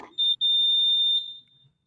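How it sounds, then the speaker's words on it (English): A fire alarm sounds in a room with a sharp, piercing electronic tone, starting with a short burst, a brief gap, then holding steady for about a second before cutting off, loud and alone. "they're working on the alarm"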